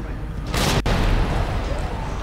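A grenade explodes in a video game: one sudden loud burst with a sharp crack partway through, then a rumbling tail that fades under the game's ambient noise.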